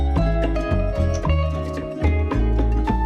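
Opening bars of the Narcos theme played as a sample on an MPC Live 2: loud, dense music with steady low bass notes and sustained tonal layers, no voices.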